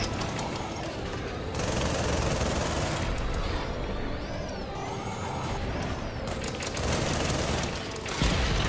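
A barrage of micro missiles fires from a mech in the video game Project Nimbus, with dense, rapid, loud bursts of launches and explosions rolling on continuously and swelling in several waves.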